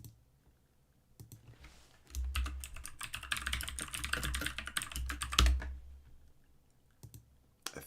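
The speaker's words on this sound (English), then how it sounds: "Authoritative typing." Rapid clicking keystrokes on a computer keyboard, starting sparse, building into a dense flurry of typing, then tapering to a few isolated taps; close and fairly quiet.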